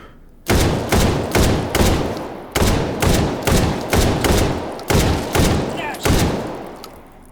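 A 12-round Russian semi-auto shotgun in a shooting video game fires about a dozen loud, booming shots at targets in fairly steady bursts, each blast ringing out briefly before the next, with no talking.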